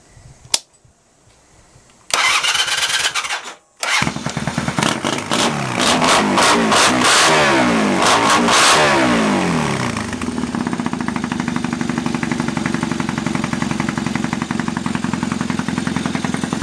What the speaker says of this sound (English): it's got just beautiful idle, and it just revs everywhere, and it just settles down into an idle.